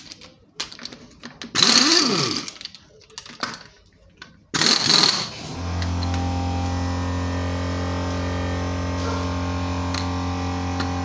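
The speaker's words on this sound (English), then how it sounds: "we begin this procedure by using a 70 millimeter socket and just unscrew these four bolts" A socket tool spinning off the wheel bolts during a seasonal tire change to steel rims, two loud close mechanical whirring bursts followed by a steady electrical hum.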